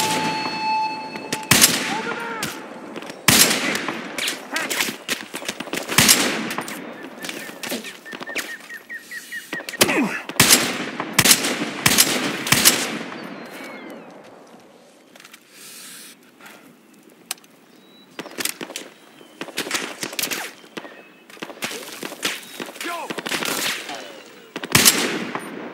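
Bursts of gunfire in the video game Battlefield Hardline, sharp rapid volleys and single loud shots clustered at intervals, with a quieter lull midway before more shooting resumes.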